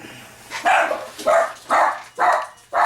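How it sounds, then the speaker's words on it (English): Dogs bark in a quick series of five loud, sharp woofs at a steady rhythm, close by. "Sorry about my dogs"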